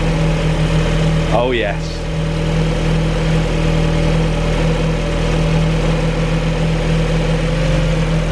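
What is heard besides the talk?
turbocharged Mazda MX-5 engine starting and idling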